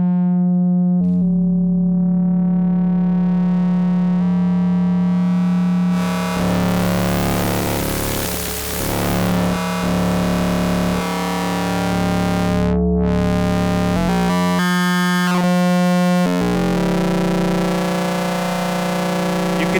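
Schlappi Engineering Machina Bristronic synth voice driven into harsh phase-modulation feedback distortion, a steady buzzing tone that thickens into dense, gritty noise, briefly cuts out, then returns with stuttering bursts.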